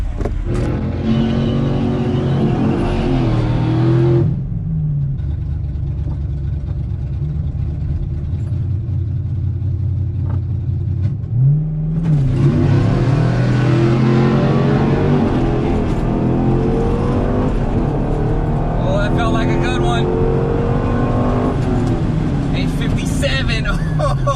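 A stock Chevrolet Corvette Z06 launches down a drag strip, its engine roaring loudly through rising gear sweeps, with a quiet gap between two hard pulls and a voice talking near the end.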